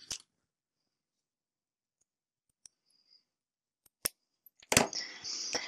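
A 9mm button is pulled free from its backing card, giving a few sharp, isolated clicks and snaps across mostly quiet moments, ending in a short rustle of card and plastic close to the microphone.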